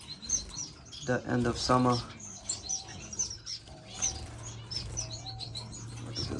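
Owl finches and other finches in an indoor bird room chirp and tweet continuously, with bursts of wing flapping nearby and someone talking briefly over the birds.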